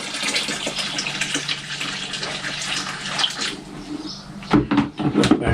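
Water collected for ducks is poured back through a filter in a steady, close rushing splash that runs for several seconds, then breaks into a few louder gurgling surges and splashes at the end.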